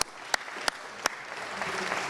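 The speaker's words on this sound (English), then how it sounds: "we're going to give her a big hand, big round of applause" Applause from a modest crowd at an outdoor ribbon cutting for a new food business, a soft, steady patter of clapping with three sharp, louder claps close by near the start.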